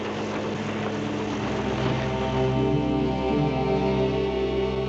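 A helicopter running at full power over open water while towing a rope from a speedboat gives a loud, steady, droning engine and rotor roar with a slight rising pitch, continuous throughout and without speech.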